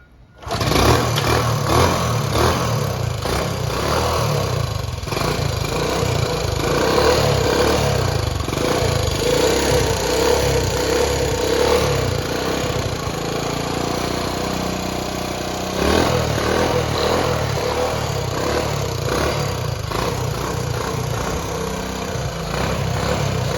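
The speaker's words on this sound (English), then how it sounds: "Turn the ignition on, Terry." A 1966 Honda CT90 90cc trail motorcycle starts after a brief silence and keeps running close by for over twenty seconds, a steady loud engine note with a slight dip in pitch midway, an uneven idle and no voices over it.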